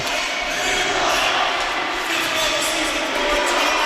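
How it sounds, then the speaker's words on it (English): Crowd at a boys' high school hockey game between White Bear Lake and Hill-Murray at the Madness Sports Center, roaring as fans rise, a steady loud wash of cheering throughout. "the crowd comes to their feet at the Madness Sports Center"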